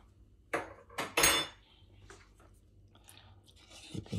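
Flour batter being mixed with water in a bowl, heard as a few sharp clinks and wet scraping strokes near the start, then softer sloshing and scraping, close by with no voices.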